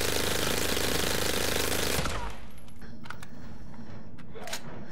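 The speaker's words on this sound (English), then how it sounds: "Now let's try the assault rifle with just the dual magazine attached." An assault rifle fitted with a dual magazine in Resident Evil 3 lets off a loud, dense two-second burst of rapid automatic fire. Clinking shell casings and faint mechanical clicks follow in a quieter tail.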